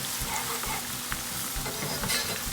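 Green chilies and ginger frying as a tadka in a pan for yellow daal, with a steady close sizzle and scattered stirring scrapes throughout, no voices.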